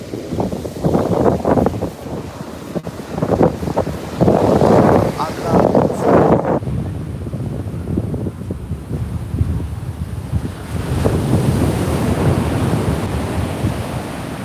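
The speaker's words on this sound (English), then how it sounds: "See, look, here's the ocean water." Ocean waves wash up on the sand at a beach in Montara, California, a steady roar of surf mixed with gusting wind noise, with a person talking over it throughout.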